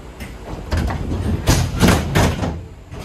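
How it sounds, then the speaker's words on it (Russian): A St Petersburg metro train's sliding doors close with a rumbling, hissing slide and a few firm thuds over about three seconds, with the low rolling noise of the carriage around them. "Осторожно, двери закрываются."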